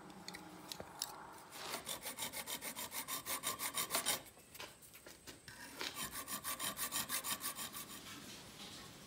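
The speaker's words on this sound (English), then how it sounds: "I'm gonna file in little grooves on either side of these" Metal file rasping grooves into butterfly knife handles, two runs of rhythmic back-and-forth strokes separated by a short pause, close and clear with no talking.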